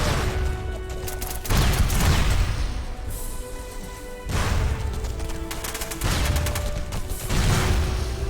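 Grenade explosions in the video game SOCOM 2 go off in several heavy bursts of booms and crashes, separated by short lulls, loud and close with game noise between them.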